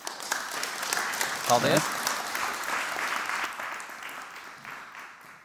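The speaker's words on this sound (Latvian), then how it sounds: "Aplausī." An audience at a hackathon on open data gives sustained applause for a team, a dense clapping that starts abruptly and gradually fades over several seconds, with a brief spoken word over it.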